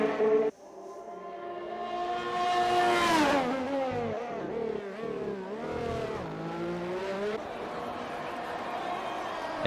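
Formula 1 cars race around the Monaco street circuit by the marina in the F1 2020 video game. A loud, high engine whine sweeps up and down in pitch through gear changes and stays constant under the action.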